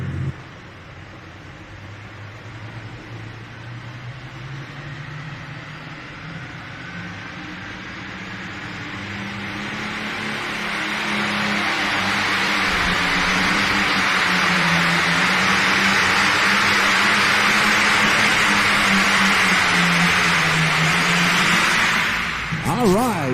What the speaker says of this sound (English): the Farmall 560, as he gets ready to go to work here